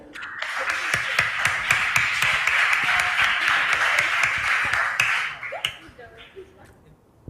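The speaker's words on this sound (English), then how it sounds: "Let's give them a hand of applause again." An audience at a regional school quiz contest claps for the contestants, a brisk burst of applause lasting about five seconds before it thins out into a few scattered claps and faint room noise.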